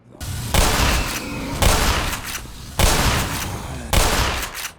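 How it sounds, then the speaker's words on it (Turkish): Pump shotgun fired four times at roughly one-second intervals in the video game Half-Life Black Mesa, each loud booming blast followed by a short decaying tail. "Pompalı inanılmaz bir şekilde zevk veriyor abi"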